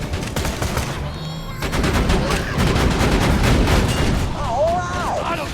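Turret gunfire in Borderlands 2 rattles in rapid, loud bursts, a dense stream of shots with booming impacts and a brief electronic whine near the end.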